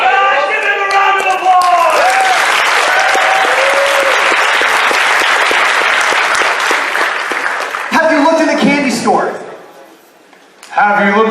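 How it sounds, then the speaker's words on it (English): Loud, sustained applause from a furry convention audience at Anthrocon 2018 fills about eight seconds, voices talking over its start, then fading out as speech resumes with a brief burst of clapping at the end. "Guys, give him a round of applause."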